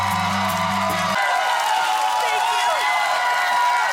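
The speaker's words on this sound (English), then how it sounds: "a roaring applause from an audience that cheered and clapped for the star of the season" An audience roaring with applause, cheering and clapping for a Big Brother season star, a steady wash of crowd noise throughout, briefly joined by a low musical tone at the start.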